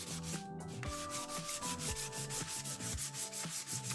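Sandpaper, 600 grit, rubs steadily across the satin desert sage finish of a Jackson Pro DK2 guitar, a continuous close scratchy rasp with a pulsing back-and-forth rhythm, and tonal notes ringing underneath.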